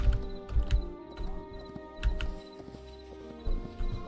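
Horse hooves clip-clop in the Hytale video game, an uneven run of hollow thuds up close with short pauses between bursts and some faint squelchy footfalls.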